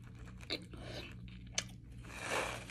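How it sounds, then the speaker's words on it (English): Close, quiet chewing and lip smacking while eating birria tacos, a few soft wet crunches and smacks at irregular intervals, no talking. "I'm gonna be smacking in my video like y'all be doing on y'all food videos"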